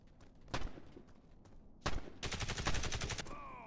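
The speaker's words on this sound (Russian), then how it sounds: "Да, стрельба здесь автоматически," Automatic gunfire in the mobile shooter Warface Mobile: scattered single shots early on, then a loud, rapid sustained burst near the end with no talking.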